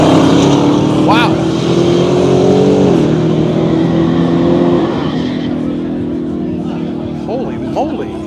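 A truck engine revs hard at a car show on the final day of Power Tour, loud and close, its pitch climbing and settling through repeated throttle blips while excited spectators shout and talk over it.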